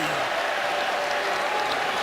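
NC State Wolfpack basketball crowd at an ACC Tournament semifinal in Greensboro against Duke, a dense, steady roar of cheering and applause filling the arena throughout.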